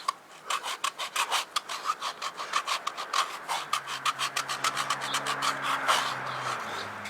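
A Ped Egg foot file rasps across skin in quick repeated strokes. The scratchy rubbing is close and fairly quiet and keeps a steady back-and-forth rhythm.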